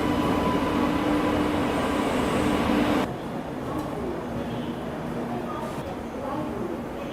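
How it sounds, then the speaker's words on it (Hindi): Rewa Rajkot Express pulling into an Indian railway station, a steady loud rumble of the train and station noise, easing to a lower, quieter roar partway through with faint background voices. "और ये अराइवल हो रहा है रीवा राजकोट एक्सप्रेस का।"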